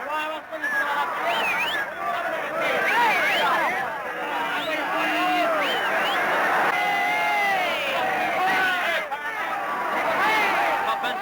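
A crowd greets legal liquor arriving at the end of Prohibition in 1933 with dense cheering, whoops and babbling voices, a sustained excited roar that stays loud and busy throughout.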